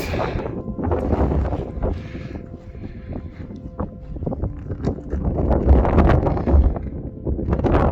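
Strong north wind buffets a mountain hilltop in Drumochter, roaring and gusting steadily against the microphone with rustling bursts, without talking.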